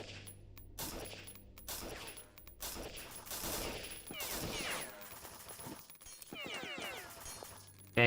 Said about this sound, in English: It's not as easy with the pistol from far away.